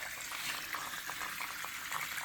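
A Craftsboys silent internal aquarium filter running in a fish tank, churning and bubbling the water surface with a continuous close gurgling wash and small splashes, no voices.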